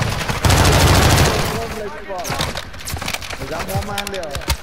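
Rapid gunfire bursts on Ashika Island in Call of Duty Warzone, a loud dense volley up front that thins into scattered shots, with players talking over the fighting.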